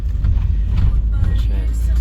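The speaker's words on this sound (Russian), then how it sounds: "Это мы едем по туннелю через гору, через горные породы." Inside a car driving through a tunnel bored through a mountain, a loud, dense low rumble of the road and engine fills the space, with a voice faintly present.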